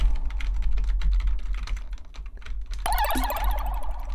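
Computer keyboard keys being typed in a rapid, uneven clatter of close clicks while playing the 1990 DOS game Star Control, then a burst of bright electronic game sound that takes over near the end.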